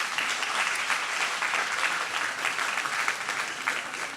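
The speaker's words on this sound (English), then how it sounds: "let's applause to this beautiful city and Poland." A conference audience applauds Kraków and Poland with steady, dense clapping from a large crowd, filling the hall without a break.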